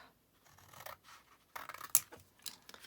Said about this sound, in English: I'm going to wedge a little bit here and then cut this flap off.